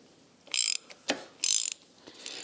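Ratchet clicking on a timing belt tensioner bolt of a Ford Pinto SOHC engine, heard as three short bursts of quick ratcheting clicks with brief knocks between, close up and with no talk.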